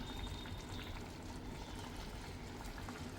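Sardine (mathi) poriyal simmers in an open pan, a faint, steady bubbling and soft sizzle with no voices.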